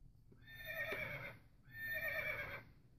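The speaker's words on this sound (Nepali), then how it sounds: "यो चाहिँ घोडो हो घोडा" A horse neighs twice in long, shrill whinnies that rise and fade, each about a second apart, clear and close with no talk over them.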